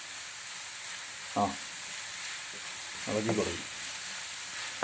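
Chopped ginger fries and is stirred in a pan while making egg bhurji, a steady soft sizzle broken by two brief scraping stirs, with a voice talking faintly in the background.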